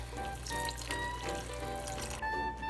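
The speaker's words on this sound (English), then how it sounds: "We're going to start with 1 carton of vegetable broth. I have more if we need more. We're just going to dump this in." Vegetable broth poured from a carton into a cooking pot for vegan gumbo, a steady continuous liquid rush close by, with no talking.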